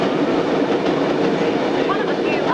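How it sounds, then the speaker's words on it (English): Train rumbling across the Sydney Harbour Bridge overhead, a steady broad roar with faint rail clatter, continuous and fairly loud throughout with some background voices. "that's the train you can hear going overhead through the Old Harbour Bridge"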